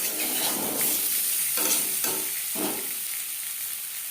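Potatoes frying with salt and turmeric for mutton curry make a steady, close hiss of sizzling oil, with several sweeping stirring strokes rising briefly above the frying.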